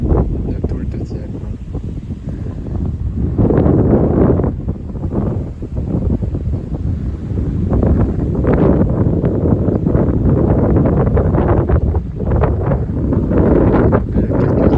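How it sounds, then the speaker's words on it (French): Strong wind gusts from a winter gale with snow, around 75 km/h, roar loudly and continuously against the microphone, swelling and easing in waves. "Il y a quelques rafales qui arrivent quand même."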